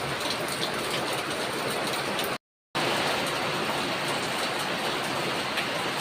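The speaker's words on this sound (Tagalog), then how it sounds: "Ayan, lakas-lakas ng ulan o." Heavy rain pours down in a steady, dense hiss, loud and close without letup, broken only by a brief cut of silence midway through; no one speaks.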